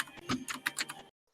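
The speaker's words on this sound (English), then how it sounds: "if you hear like keyboards in the background, I'm playing like Risk of Rain 2 right now." Rapid keystrokes clatter on a computer keyboard during a Risk of Rain 2 gaming session, a close, busy burst of taps lasting about a second before cutting off.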